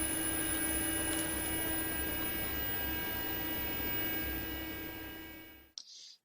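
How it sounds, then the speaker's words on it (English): Electric machine fed by an NPC multilevel converter, spinning in reverse at about 500 RPM: a steady, close electrical hum with tonal whine and broadband noise that holds evenly, then cuts off abruptly just before the end. "So the machine will be rotating in the opposite direction."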